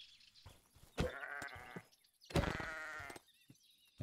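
Two bleats from a sheep in the video game Siren Head: The Arrival, each sounding for about a second, separated by quiet gaps and heard faintly with no talk.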